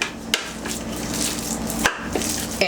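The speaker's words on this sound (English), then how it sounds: "So I'm just going to press this all down" A spoon pressing and scraping a thick blended date mixture in a bowl, with three sharp clicks of the spoon against the container over a steady low mechanical hum.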